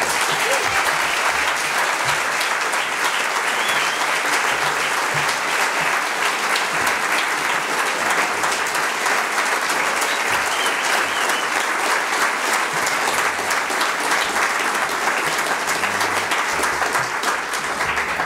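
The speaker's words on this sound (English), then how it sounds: "I really like being clapped for." A lecture audience gives sustained applause as a speaker is welcomed to the lectern, dense steady clapping from many hands that stays loud and even for the whole stretch.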